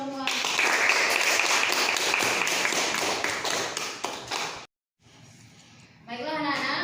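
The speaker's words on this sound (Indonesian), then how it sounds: "kita berikan aplaus untuk kelompok 2" Students in a classroom applaud for group 2, with a dense burst of clapping for several seconds that fades out, followed by a short gap and then a voice talking.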